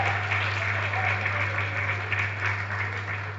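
An audience at a book presentation applauds a speaker stepping on stage, sustained crowd clapping over a constant low electrical hum, fairly even and moderately loud.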